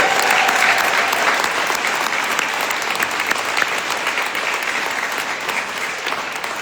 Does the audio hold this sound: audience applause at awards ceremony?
yes